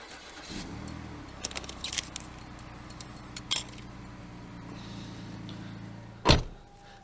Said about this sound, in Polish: Włączymy silnik.